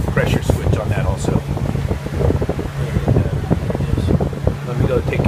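An air conditioning system runs just after a new evaporator coil was installed, giving a steady, loud broadband whir with a low hum and fluttering airflow noise throughout, and no voices.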